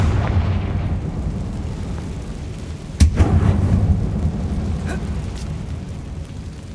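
A Confringo fire spell goes off in the Hogwarts Legacy video game as a sharp explosive bang midway, followed by a rumbling, crackling tail above a low steady ambient drone.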